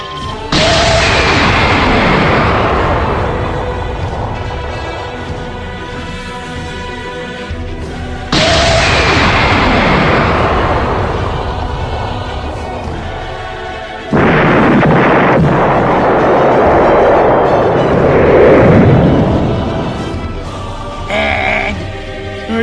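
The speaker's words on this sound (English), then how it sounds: "Launch the cannons!" Cannons fire in the Axem Rangers X: Rise of the Resistance video game, three loud booming blasts spaced several seconds apart, each trailing off in a long rumbling decay, with no talking.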